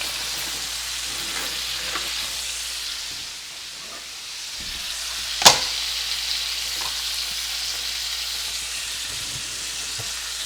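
Scallops searing in a hot pan give a steady, moderately loud sizzle and hiss throughout, with one sharp clatter midway, likely a pan or utensil being moved.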